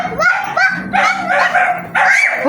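A dog barks and yips in short bright bursts, close and loud, outdoors on the way to school, with a few voices mixed in.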